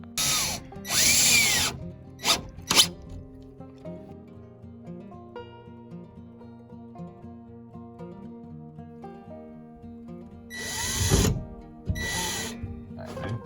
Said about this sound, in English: now drilling it in